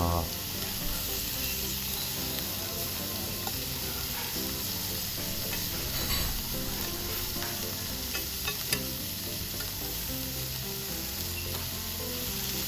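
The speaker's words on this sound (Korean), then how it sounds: "다 구워져 가고 있습니다" Korean beef sizzles and crackles steadily as it grills at an aged hanwoo barbecue restaurant, with a continuous loud frying hiss and light tapping of utensils, close up and without talk.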